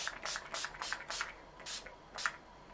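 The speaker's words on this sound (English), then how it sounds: "I'm gonna put some of this vitamin C spray on first before I get to the mask." Short hissing bursts from a vitamin C face mist spray bottle, about seven quick pumps in an uneven rhythm, close and fairly quiet with no talking.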